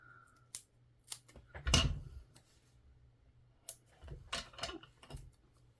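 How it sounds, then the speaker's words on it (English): Scissors snip through thin foam tape while strips are cut for a Christmas card, a few sharp close cuts separated by pauses, with no talking. "I will cut out a piece and then cut out some strips"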